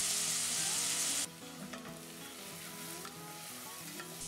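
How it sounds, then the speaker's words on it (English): Diced onions and garlic frying in hot olive oil, starting with a loud hissing sizzle that suddenly drops to a gentler crackle, with occasional stirring clinks in the pan. "Once the oil's hot, add your diced onions and stir fry for a couple of minutes"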